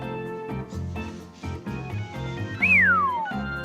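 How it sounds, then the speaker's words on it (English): A single rising-then-falling whistle, a cartoonish sound effect, cuts in over a busy game soundtrack in Super Smash Bros. and glides downward for about a second before the music carries on. "I can't actually whistle, that was just a sound effect"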